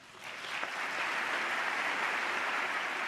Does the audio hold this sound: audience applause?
yes